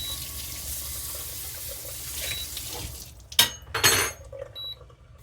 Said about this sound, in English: let me run this under water real quick.